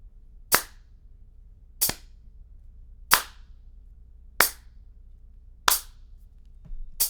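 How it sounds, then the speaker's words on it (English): Six sharp single hand claps ring out alone at an even, slow pulse, each crisp and close with a short decay, the last one softer. "One note here would sound like this. I'm going to clap to this."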